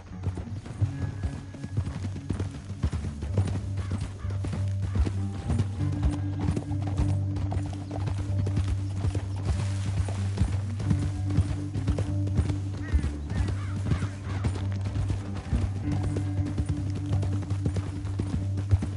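Horses trotting in the video game Red Dead Redemption 2, a continuous rhythmic clip-clop of hooves with an occasional whinny, set over a low sustained musical drone that runs throughout.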